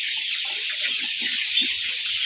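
Steady massed clucking from around a hundred young brown cocks, forty days old, in a farm shed. The chatter stays even and close throughout, with a few slightly louder calls.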